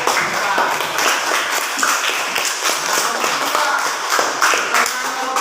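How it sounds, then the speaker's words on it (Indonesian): Students in a classroom clap for a group during a teacher-training practice lesson, a brisk, close run of many hands tapping together with voices underneath. "tepuk tangan untuk kelompok"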